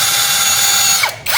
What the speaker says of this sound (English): We're gonna pre-drill a little bit.